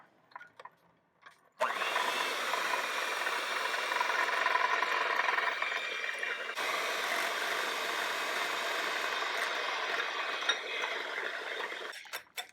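An electric mixer beats egg yolks into a lemon batter of lemon juice and salt, a steady close whir running continuously for about ten seconds with a slight shift partway through, no talking.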